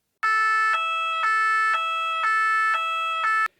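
A fire brigade emergency siren blares in a two-tone pattern, alternating high and low notes about every half second, loud, close and steady, with no other sounds.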